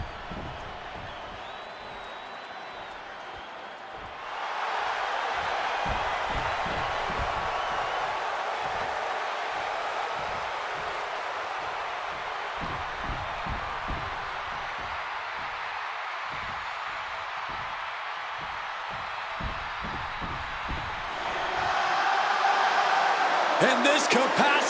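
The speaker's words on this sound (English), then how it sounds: "And this capacity crowd just exploded." A capacity arena crowd in WWE 2K26 roars for a CM Punk versus Seth Rollins match, a broad sustained wall of cheering that swells midway and surges louder near the end, with commentary voices underneath.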